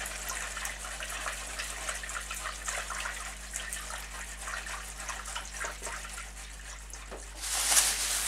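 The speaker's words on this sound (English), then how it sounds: "Then add some cool tap water" Cool tap water runs steadily into a brine mixture of salt and water, a continuous close rush of flowing liquid with a brief splashy surge near the end.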